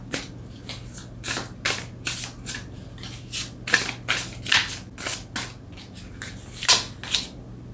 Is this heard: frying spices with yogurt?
no